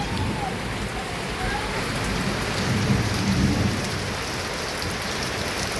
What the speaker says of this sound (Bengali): দেখো দেখো বৃষ্টির জলটা কি ভালো লাগছে, তাই না?